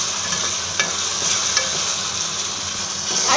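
Ginger-garlic paste fries with onions in a pan for spicy misal pav, giving a steady, close hiss of oil and a few soft scraping stirs, with no voices.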